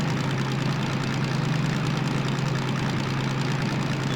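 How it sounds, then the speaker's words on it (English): A heavy freight locomotive's diesel engine in the Derail Valley simulator drones steadily with a low rumbling throb, hauling an 800-ton train, no talking over it. "I can hear the engine increasing in tempo."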